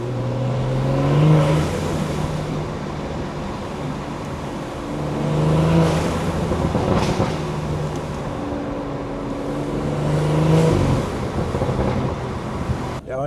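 A BMW with a Stage 2 tuned B58 engine pulls hard in repeated bursts of acceleration, each surge swelling and then easing, heard from inside the car with road and wind noise beneath.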